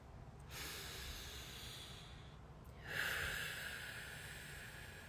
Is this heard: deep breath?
yes